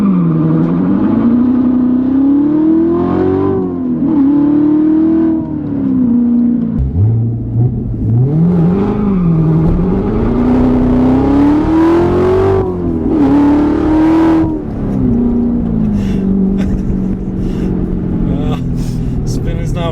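A Corvette C7 Z06 with a seven-speed manual is driven hard with wheelspin, its loud engine rising and falling through repeated throttle surges and shifts, close and dominant, with occasional voices inside the car.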